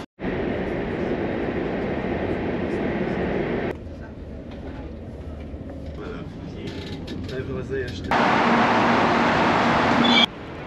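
Mechanical rumbling and creaking of an Israeli passenger train carriage heading to Tel Aviv, with shifting noise levels, along with muffled voices in the background.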